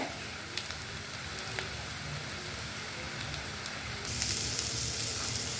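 Soft, steady sizzling of ground spices in a pan on a simmer, close and continuous, with a few faint clicks and a slight rise in hiss near the end.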